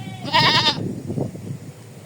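A goat on a goat farm lets out a loud, wavering bleat close by, followed by quieter rustling and low murmuring voices in the background.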